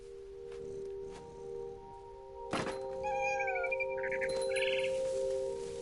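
A cat meows in a video game, a few short mid-pitched meows and chirpy calls following a sharp thunk, over a constant electronic hum.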